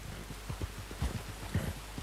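Steady rain in the video game Red Dead Redemption 2, a dense soft patter with a few heavier low thumps, like hooves or footsteps, breaking through near the middle and end.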